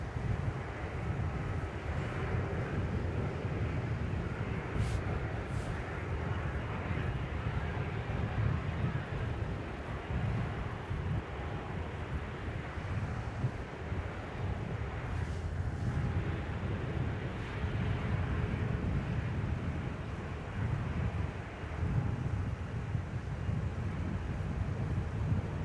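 Jetstar Airbus A321 on short final into Melbourne, arriving from Sydney: a steady low broadband engine roar with wind rumble, held at an even level for the whole stretch, moderately distant, with no talk over it.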